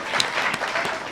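Brief applause for graduates at a documentary program graduation, a dense patter of clapping from the crowd, steady and moderately loud.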